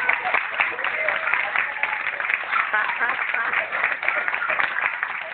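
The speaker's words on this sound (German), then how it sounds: "jetzt haben die neuen Studentinnen mit ihren Paten auch nochmal einen ganz lauten Beifall" Applause from an audience for new schoolgirls and their mentors at a school enrollment ceremony, a steady, dense patter of clapping lasting throughout.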